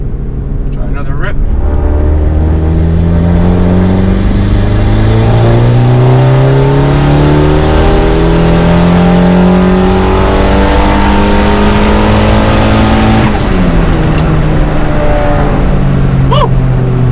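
A turbocharged Honda Accord accelerates hard along a street, its loud engine climbing through the revs in long rising sweeps, dropping briefly at a gear change near the end before pulling again, with a voice briefly under the roar.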